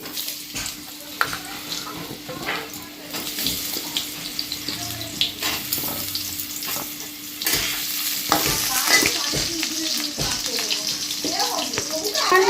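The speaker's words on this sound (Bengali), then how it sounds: "এই যে এবার আলু পটলগুলো আগে ভেজে নিই" Potato and pointed gourd pieces fry in hot oil with a continuous close sizzle, broken by scraping stirs and clinks of a spatula, while a voice talks intermittently over the cooking.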